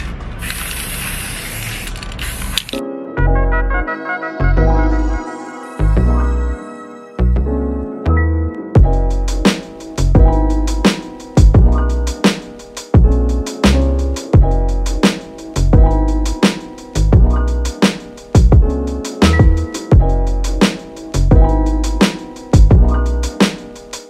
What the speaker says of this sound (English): It's this this multi-surface matte black spray paint, and I hope it sticks and it doesn't flake off.